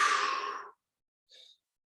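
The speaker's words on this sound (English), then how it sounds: "A couple of deep breaths here." Deep breaths during a standing stretch against a wall, one long audible exhale followed by a short, fainter breath, close and alone.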